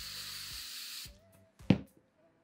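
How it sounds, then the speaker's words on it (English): Hairspray sprayed onto a spoolie brush gives one short, close hissing burst of about a second, followed by faint handling clicks and a light knock. "what I do with the hairspray is I just take a little bit of it, spray it on my spoolie"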